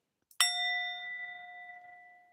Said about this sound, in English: Let me just clear the energy and ring the bell